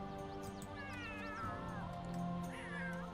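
Several cats meow in The Sims 3 Warriors challenge, overlapping wavering cries, some drawn out and some short, over steady game music and ambience.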